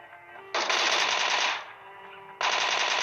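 Video game gunfire while killing an enemy, two bursts of rapid automatic fire, loud and close, separated by a brief quieter gap.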